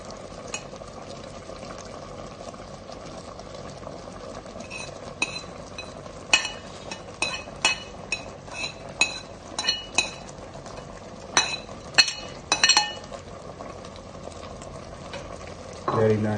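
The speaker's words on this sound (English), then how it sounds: "So stir it and get the coconut down." Coconut being stirred into a sweet potato dessert in a pan, heard as scattered, uneven scraping and light clinking of a utensil against the pan, moderately close, over a low background hum with no talk.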